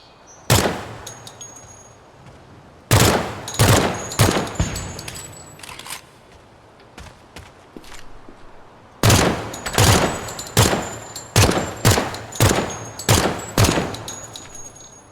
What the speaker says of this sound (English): I don't even want to shoot this thing like full auto. It kicks all over the place.